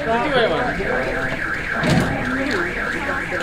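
A car alarm wails loud and close in a steady warbling, repeating siren tone, with voices murmuring beneath it.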